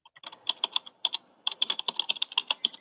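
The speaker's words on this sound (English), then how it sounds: "She starts typing furiously on her keyboard," Rapid, furious typing on a computer keyboard as a sound effect: a dense burst of sharp key clicks with a brief pause midway, close and alone.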